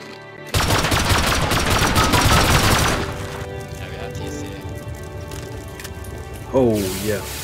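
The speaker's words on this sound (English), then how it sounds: "it's a shotgun" A video-game shotgun opens up in a sustained, dense roar of gunfire lasting a few seconds, then cuts off into a quieter ambience, with a rising warbling effect near the end.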